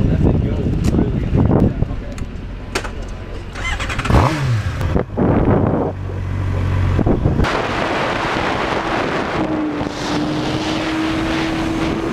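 A sport motorcycle on a race track accelerates past with a loud engine roar that builds and fades. Wind buffeting and other motor noise follow, and a steady whining tone comes in near the end.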